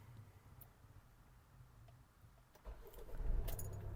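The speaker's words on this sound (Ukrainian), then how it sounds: "Двигун запускається чудово." A Kia Sorento 2.2 diesel with an automatic gearbox and 190,000 km on it starts up. Faint key jingles and clicks come first, then the engine cranks and catches with a low, growing rumble in the last second and a half.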